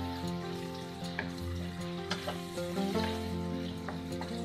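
Mixed vegetables fry in a pan as masala is stirred in, a steady close sizzle with occasional scraping strokes of the spoon, no voices over it.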